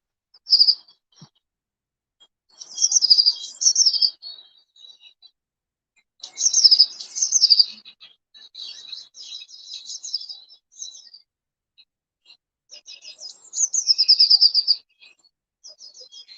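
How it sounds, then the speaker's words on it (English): A recorded blue tit song: short bursts of high, bright birdsong repeat in separated phrases with quiet gaps between, clear and fairly close, with no talking. "I'll play blue tit."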